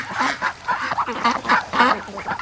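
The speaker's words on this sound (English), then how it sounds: "The ducks are sort of like getting a little bit agitated" Restless ducks in a pen at night give a rapid run of nasal quacks and honks, several birds calling close together in overlapping bursts.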